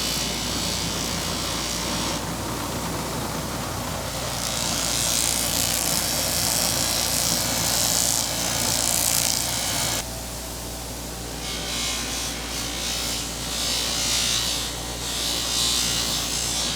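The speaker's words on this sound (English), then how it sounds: "So I got a brand new buffing wheel on this other machine that we got." A brand-new buffing wheel loaded with compound buffs a wrench on a bench machine, giving a loud, continuous close motor whine with a hissy grinding texture that shifts as the work is pressed on and eased off.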